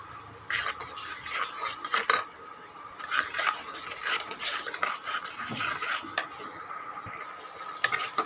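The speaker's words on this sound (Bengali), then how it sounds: "আবারও ভালো করে নাড়িয়ে নিচ্ছি।" A utensil scrapes and clinks around a cooking pot of tangy village-style snail curry with turmeric and sugar, in repeated close, uneven strokes over a steady background hiss.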